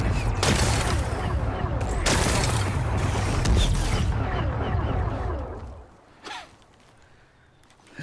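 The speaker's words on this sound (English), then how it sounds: "It's exploding." Rocks are blasted apart in Horizon Forbidden West: a loud, dense burst of explosive rumble and crackling debris holds for about six seconds, then drops away to quiet with one brief after-thump.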